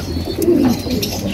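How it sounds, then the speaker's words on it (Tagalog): A blue bar pigeon gives a single low coo up close, a short throaty call over quiet background noise. "lagay natin dito yung ating ibon na blue bar"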